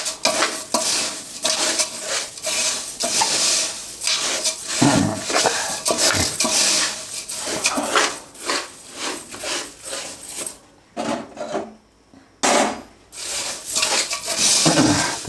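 Roasted poha chivda with spices is stirred in a pan with repeated scraping and rustling strokes. The dry flakes rattle against the metal, loud and continuous, with a brief pause near the end.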